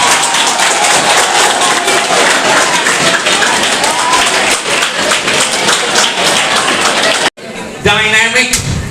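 Loud applause from a school audience of boys and girls welcoming a guest, sharp close claps and thuds filling most of the stretch before it cuts off and a voice begins speaking.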